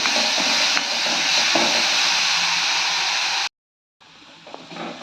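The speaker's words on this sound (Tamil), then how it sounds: "குறகுறப்பாக அரைச்ச துளசி இலை அடுப்பை சிம்மில் வச்சு நல்லா வதக்கிக்கலாம்" Coarsely ground tulsi (holy basil) leaves sautéing in a pan on a low flame, a steady, fairly loud sizzling hiss that cuts out briefly to silence before returning more softly.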